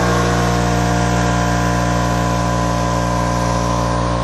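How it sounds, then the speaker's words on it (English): A loud air compressor, used to blow out a computer, runs steadily close by, a constant mechanical drone with a deep hum and no breaks. "I'm going to turn on the air compressor here."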